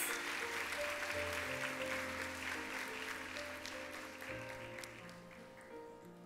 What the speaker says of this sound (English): Can we have another round of applause from Ms. Buenrostro's fifth grade class?